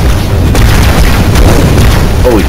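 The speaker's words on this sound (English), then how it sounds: "Gunship fires." A gunship firing in Halo 2 Anniversary produces a loud, rumbling boom with dense low-end roar and scattered blasts throughout.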